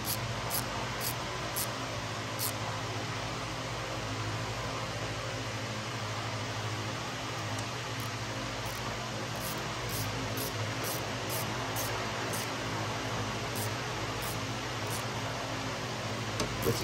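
An electric cooling fan runs steadily in the background during an install on a Jeep ZJ with a 4.0, 5.2 or 5.9 engine, a constant broadband whir with a faint hum and no voices.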